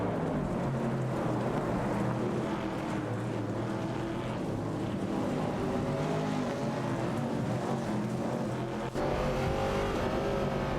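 Engines of several race cars in a video game AI race drone continuously and loudly, layered revving and high whines blending into a steady wall of motor noise with no pauses.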